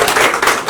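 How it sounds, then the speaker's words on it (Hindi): An audience seated at a film event gives a short, loud burst of dense clapping, close and continuous for under a second. "जोरदार ताली मदद करें।"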